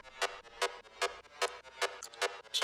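A Diva synth lead layer for a hard techno track plays alone, with bright, gritty stabs repeating in a steady pulse about every 0.4 seconds, up close and fairly loud.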